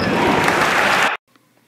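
The Cameron Crazies student crowd roars with loud, dense cheering and clapping for about a second, then it cuts off abruptly into near silence.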